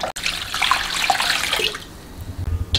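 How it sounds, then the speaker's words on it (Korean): Water pours and sloshes in a container, shaken to rinse ingredients for young cabbage water kimchi, splashing loudly and closely for about two seconds before easing into softer swishing. "물 좀 붓고 이렇게 흔들어서"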